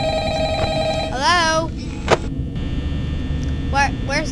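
A telephone rings inside a horror video game, sounding in a few separate bursts over a steady electrical hum in a quiet room.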